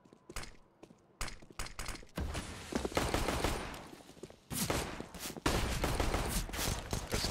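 Rapid bursts of automatic rifle fire crackle in a professional Counter-Strike esports match on the Nuke map, with irregular volleys separated by short pauses and growing louder toward the end.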